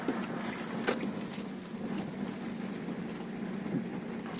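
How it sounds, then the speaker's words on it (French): A car pulling into a parking spot at the Domaine de Bagatin in Grimaud, its engine running low and steady at close range, with a few light clinks and taps, and no speech. "Je vais garer ma voiture ici."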